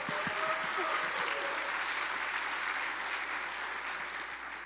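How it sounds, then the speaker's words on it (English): Conference audience applause at React Conf 2025 forms a dense, sustained wash of many clapping hands that holds steady throughout, with a few close individual claps standing out early on. "can we get a big round of applause for Joe, Mofe, and of course,"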